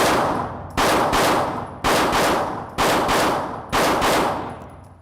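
Handgun fired on a live-fire red dot drill, five sharp loud shots at a slightly uneven pace, each followed by a decaying ring, with no talking.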